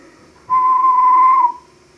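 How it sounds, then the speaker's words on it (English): A railway guard's whistle on a station platform sounds as one steady, loud, clear blast lasting about a second, heard alone against near silence. "He went on to the platform, blew his whistle,"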